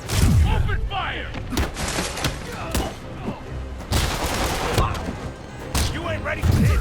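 Dense gunfire in Marvel's Spider-Man on PS4, rapid overlapping shots and booms in loud bursts, with shouting voices mixed in.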